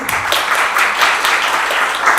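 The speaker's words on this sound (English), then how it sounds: "a big round of applause for all of our coordinators" An audience at a conference in Čakovec bursts into steady, dense applause for the team coordinators, a close wash of many hands clapping at once with no voices on top.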